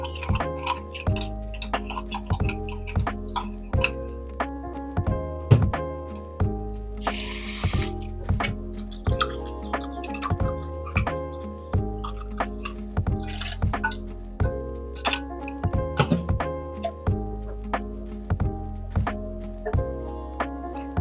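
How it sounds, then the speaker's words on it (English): Water dripping and trickling while tomato containers are rinsed and cleaned in a kitchen, with steady small splashes, taps and clinks against the containers, close and continuous. "So I'm washing and cleaning all these tomato containers."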